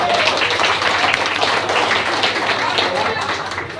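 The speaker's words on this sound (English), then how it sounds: "Round of applause for Mum." Applause from a gathered audience welcoming the speaker's mother at a book event, a steady dense patter of many hands clapping close by for several seconds, with some voices mixed in.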